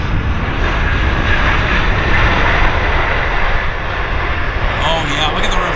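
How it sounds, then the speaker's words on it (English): A passenger airliner landing at Vancouver Airport roars under reverse thrust, a loud, steady broadband engine rush that holds throughout, heard from a spotting position outdoors. "look at the reverse thrust blow up"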